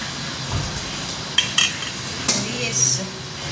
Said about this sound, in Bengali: এখানে এই যে ভোগের পায়েস রান্না হচ্ছে।